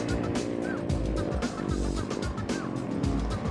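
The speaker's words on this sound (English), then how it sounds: "Now that spinning and sputtering sounds like that could be coming from Olivia Woods' car" A race car spins and sputters on the track, its engine stuttering in rapid, uneven bursts with a brief tire squeal, fairly close and loud.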